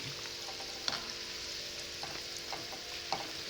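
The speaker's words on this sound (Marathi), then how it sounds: "आपण असेच सगळे गुलाबजाम तळून घेऊया" Gulab jamun deep-fry in hot oil, a quiet, even bubbling sizzle with occasional small pops and spoon touches, close and free of talk.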